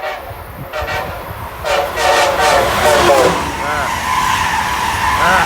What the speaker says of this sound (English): Got a northbound Acela coming.